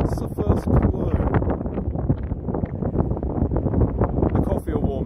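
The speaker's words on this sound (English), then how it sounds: "It's a lovely windy day." Wind buffets the microphone outdoors with a constant low rumble and gusty roar, and a voice is faintly audible beneath it.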